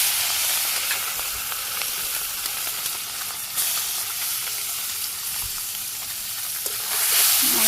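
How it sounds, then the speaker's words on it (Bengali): Fish rubbed with turmeric, chili and salt sizzles steadily in hot oil in a wok, a loud, continuous crackling hiss that swells slightly toward the end, with no talking. "তেল গরম হয়ে গেছে, মাছ ছেড়ে দিই।"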